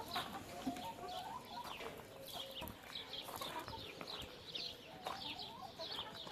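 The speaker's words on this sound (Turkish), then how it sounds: "Evet, burada tavuklarımız dışarıda." Several chickens cluck faintly in an outdoor farmyard, over a steady background of rustling and distant noise.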